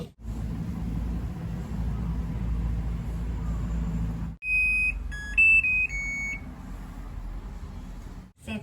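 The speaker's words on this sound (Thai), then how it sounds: "เรียบร้อยแล้วนะคะ สัญญาณเตือนแล้วนะคะ" A new washing machine signals the end of its cycle with a short series of clear electronic beeps at varying pitches, following a steady low machine hum that cuts off just before the tones.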